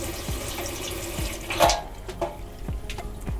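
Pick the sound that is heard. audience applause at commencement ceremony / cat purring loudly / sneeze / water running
water running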